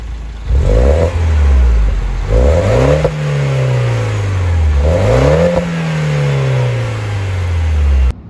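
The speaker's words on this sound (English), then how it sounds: "this car does sound pretty good. Here's what the car sounds like." A 2013 Mini Cooper S Coupe engine revs up several times, pitch climbing and dropping between blips, loud and close, ending in a steady idle.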